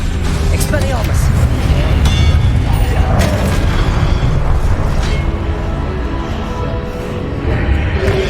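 A spell being cast in Hogwarts Legacy, heard as a dense, loud rumbling boom with bursts and whooshes layered over a constant low game soundscape.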